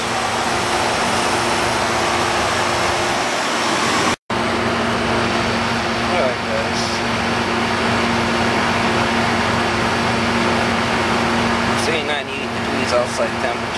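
An old flat-top Magic Chef air conditioner condensing unit runs outdoors with a steady, loud mechanical hum and fan drone, its tone constant throughout, with brief faint rattles near the end.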